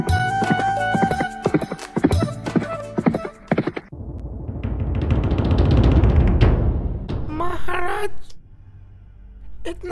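Cartoon horse hooves clip-clop in a brisk, rhythmic run of hollow knocks, followed by a swelling rush of noise and a short horse whinny near the end.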